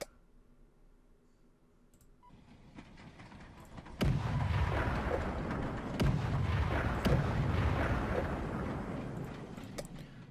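Artillery shells land in a Stalingrad battle in the Cauldrons of War video game, with soft, distant booms and sharp impacts scattered over a low rumble, including several crisp cracks toward the end.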